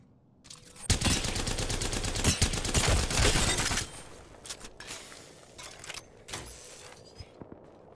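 Heavy automatic gunfire in the video game Apex Legends rattles in a loud sustained burst for about three seconds, then gives way to scattered single shots and clicks.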